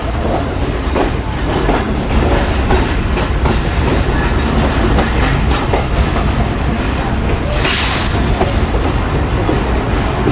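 Passenger coaches of the Pak Business Express roll along a station platform at Sahiwal, with a loud, steady rumble and a rhythmic clickety-clack of wheels running throughout, and brief high squeals now and then.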